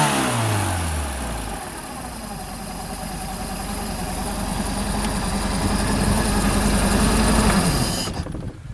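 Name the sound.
1978 Hammond engine running and revving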